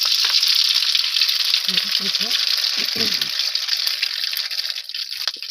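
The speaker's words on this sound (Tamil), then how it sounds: "எண்ணெய் ஊற்றியாச்சு, பட்டை சோம்பு போட்டாச்சு." Cinnamon and fennel seeds sizzle in hot oil for a chicken dish, giving a steady bright frying hiss throughout, with a few low knocks and clatters of stirring or handling in the middle.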